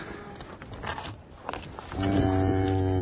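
A hornless dairy cow that calved overnight gives a loud, close, drawn-out moo in the last second, after quieter shuffling and footsteps in a farmyard.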